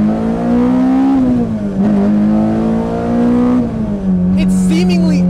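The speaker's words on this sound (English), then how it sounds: "The way it just revs so smoothly up onto VTEC." A K24-swapped Honda S2000 engine revs hard while driving, a loud, sustained smooth drone climbing toward VTEC, dipping briefly during gear changes, with a faint voice underneath.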